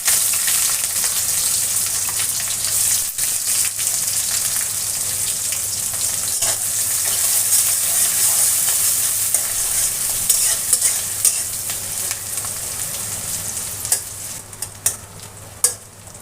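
Finely chopped onions frying in oil with cinnamon and cardamom, a loud continuous sizzle with spatula stirring scrapes growing more frequent toward the end, close up with no talking.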